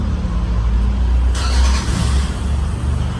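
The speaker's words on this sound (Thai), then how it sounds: "เครื่องยนต์ก็จะสตาร์ทติดนะครับ" A Toyota Commuter van's engine catches after a push-button start. There is a low, close idle at first, then a sudden brighter surge of engine noise partway through that settles into a steady running hum.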